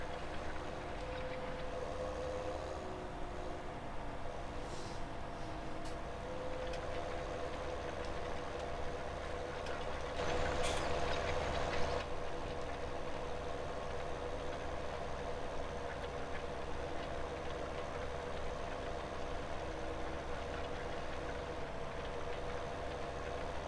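A Fendt tractor engine idles steadily in Farming Simulator 2017, a constant low mechanical drone with a few brief higher clicks and a short louder swell midway, and no talk.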